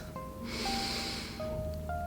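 A person taking slow, deep breaths during a guided visualization exercise, with a soft airy inhale swelling in the middle, heard close and quiet over faint background tones.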